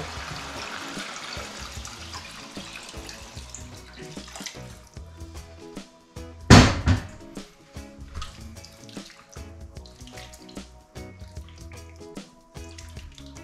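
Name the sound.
water poured into cooking pot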